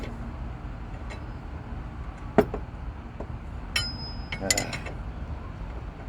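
A wrench works on a weight distribution hitch, giving a few sharp metallic clinks and taps spread irregularly over steady outdoor background noise.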